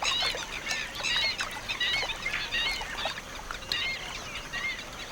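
Several spot-billed ducks calling in quick, overlapping quacks and honks at desert pools, moderately close, over a faint outdoor hiss.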